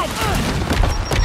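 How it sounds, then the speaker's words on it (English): A frag grenade goes off in Gears 5 Horde mode, giving a loud, short blast with crackling debris, and a voice talks over it. "Throwing frag!"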